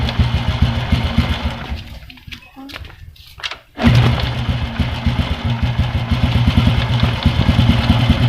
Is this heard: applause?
no